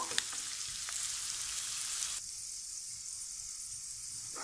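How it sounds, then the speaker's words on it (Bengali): Onions fry in a pan until they turn brown, cooking for a rui fish curry with pumpkin greens. A steady, even sizzle and hiss carries on throughout, with no voices and only a slight drop in level partway through. "আমি এখন পেঁয়াজগুলো একটু ভেজে একটু বাদামি কালার করে নেব"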